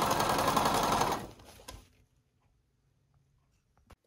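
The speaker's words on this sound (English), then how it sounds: "And then I'm just going to stitch all the way down to the other end" A sewing machine runs steadily while stitching a narrow hem on a silk scarf, a loud close whir for about a second before slowing and stopping, leaving near silence with a faint click at the end.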